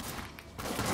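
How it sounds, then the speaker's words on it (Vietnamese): Shotgun blasts go off in the video game Sleeping Dogs, a dense rumbling burst of gunfire that briefly dips and then surges again, loud and close. "cái thằng mập này nó bắn shotgun các bạn"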